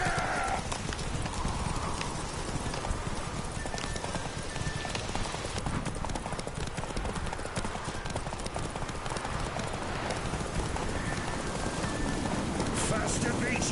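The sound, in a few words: horse hooves clip-clopping as Geralt rides Roach, from video game The Witcher 3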